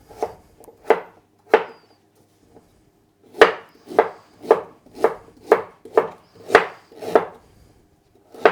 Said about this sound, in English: I'm just going to give them a rough chop, both the ginger and the turmeric